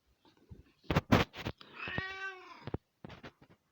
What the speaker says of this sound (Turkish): Kedimle selam var.